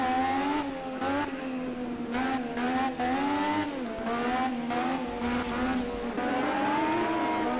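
Indy race cars in the Project Cars 2 video game roar continuously with steady high-pitched engine drones, the pitch rising and falling through gear changes as cars run close together in a pack.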